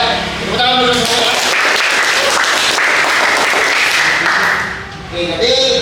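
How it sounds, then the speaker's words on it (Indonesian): A group in a classroom claps together, loud dense applause swelling for about four seconds and then fading, with someone speaking just before and after. "Tepuk tangan dulu semua."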